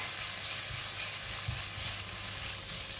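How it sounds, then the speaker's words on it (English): Minced pork frying in a pan with light soy sauce, a continuous close sizzle with a few soft stirring scrapes, no talking. "Put in about 1 teaspoon of light soy sauce. Give it a stir."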